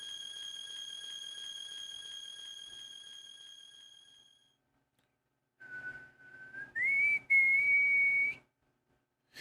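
A whistled tune from the Wild Arms video game: a run of steady, clear tones is followed, after a short pause, by a single whistled line that slides upward and holds, with no talking.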